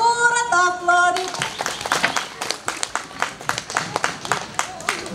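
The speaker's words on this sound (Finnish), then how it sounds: "Annetaan hänelle suuret aplodit." A short musical jingle gives way to a fair-stage audience in Jämsä, Finland, clapping for a volunteer called up on stage, producing sparse, distinct claps that ring out across the crowd.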